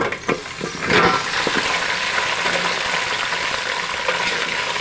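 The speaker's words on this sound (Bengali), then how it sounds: "সব মশলা পেঁয়াজ রসুন সহকারে ব্রাউন কালার হয়ে গিয়েছে এখন আমি ধুয়ে রাখা ফুলকপিগুলো দিয়ে দিই" Washed cauliflower tipped into browned spices, onion and garlic in a hot pan, a loud sizzle that flares up on contact and keeps frying steadily, with brief stirring clatter at the start.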